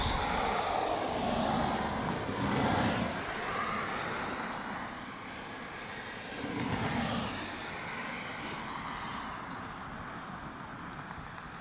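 A Qantas airliner taxiing at Melbourne Airport produces a broad, steady engine roar with a low rumble, moderately distant and swelling slightly at moments, with no talk over it.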